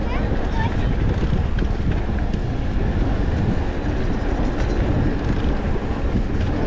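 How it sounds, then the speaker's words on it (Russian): A continuous loud rumble and rattle of an electric commuter train running right alongside, steady throughout, mixed with wind buffeting the microphone. "Обгоняли электричку мы."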